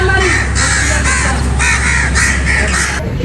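Crows cawing loudly and close in a village, a run of harsh repeated caws in uneven bursts, with faint voices in the background.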